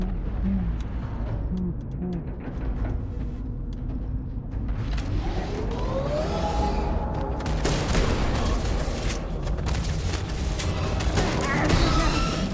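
A double barrel shotgun in the video game Starfield fires among dense game combat, heavy blasts and crackling shots stacked over a rumbling background, loud and busy, with a voice talking over it.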